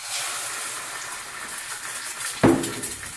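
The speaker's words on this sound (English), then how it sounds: "You hear that awesome sizzling when you put that egg in?" An egg drops into a hot oiled pan and a soft hiss of frying bursts out sharply, then settles into a steady sizzle over a quiet background of low kitchen hiss.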